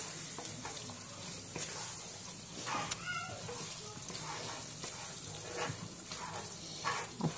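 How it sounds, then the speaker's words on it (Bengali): Mutton gravy with garam masala sizzles steadily in a pan while being stirred, giving a continuous frying hiss with scraping strokes and a brief clink, all at moderate level with no talking. "দিয়ে খুব ভালোভাবে নাড়াবো যাতে গরম মশলাটা পুরো গ্রেভিটার"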